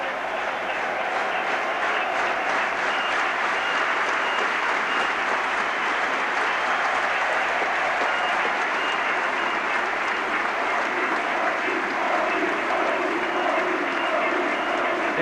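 A Wembley football crowd applauding and cheering after West Brom's 1993 play-off semi-final win over Swansea, a dense continuous roar of clapping and voices throughout.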